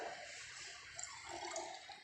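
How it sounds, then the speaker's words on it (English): Water is poured from a beaker into a glass conical flask, a steady close splashing trickle that runs continuously with small surges throughout, heard alone with no voices. "Now once again transfer this 100 ml of the water into the beaker,"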